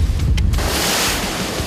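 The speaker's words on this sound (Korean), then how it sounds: "일렁이는 파도마저 위협적이다" Waves slosh and rush around a small 3-ton fishing boat at sea, loud and close, with wind buffeting the microphone in a constant churning roar.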